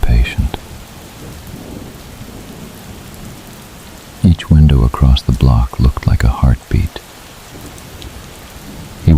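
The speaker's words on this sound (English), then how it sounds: "The rain was steady again, rain sounds for sleep" Steady, gentle rain falls continuously as a soft broadband wash, with a low rumble of distant thunder; a calm voice narrates over it midway through.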